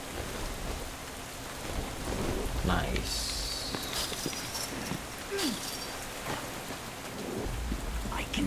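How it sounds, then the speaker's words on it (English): A storm in the video game Deadlight brings steady heavy rain with rumbling thunder. A voice speaks briefly over the downpour. "It's a storm"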